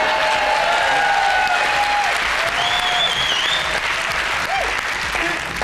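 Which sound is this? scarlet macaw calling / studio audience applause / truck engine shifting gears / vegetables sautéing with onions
studio audience applause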